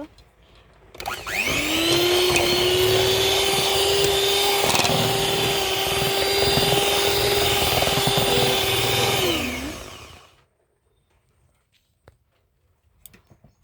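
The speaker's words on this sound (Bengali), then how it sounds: "দিয়ে আবার ভালো করে বিট করে নেব ডাবল হওয়া পর্যন্ত" An electric beater whips cream for homemade butterscotch ice cream, a loud steady motor whine running for about nine seconds before cutting off into near silence.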